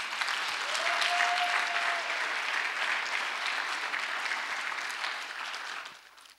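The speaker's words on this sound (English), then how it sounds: "Please give a round of applause to all the mothers." An audience at a Mother's Day celebration applauds the mothers, a steady wash of clapping that holds for several seconds, then thins and fades at the end.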